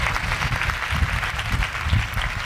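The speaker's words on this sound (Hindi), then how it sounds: "उसके जलाल के लिए जोरदार तालियां बजे" A church congregation claps loudly together during a worship service, a dense, steady wash of applause that holds for the whole stretch without pause.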